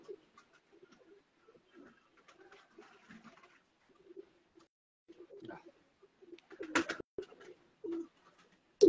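Sialkoti medical pigeons, black-faced birds, give scattered low coos and short calls at close range, with some sharper bursts and fluttering near the end.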